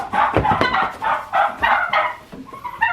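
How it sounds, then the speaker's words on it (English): Farm turkeys gobble in loud, rapid bursts close by as food is tossed to them, several rounds of rattling calls over a few seconds with no talk. "Toss out some food to the turkeys."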